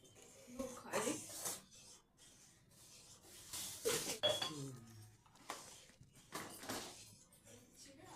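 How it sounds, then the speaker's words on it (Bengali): A metal spatula stirs rice pudding of Gobindobhog rice, milk and raisins, producing soft scrapes and clinks against the pot, heard intermittently beneath a person talking. "এরপর আবার খুন্তি দিয়ে এগুলোকে নাড়তে হবে।"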